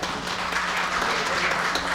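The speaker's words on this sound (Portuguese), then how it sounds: "palmas para ela" Applause in a legislative chamber session: a steady wash of clapping from a crowd, moderately loud and continuous, with no talk.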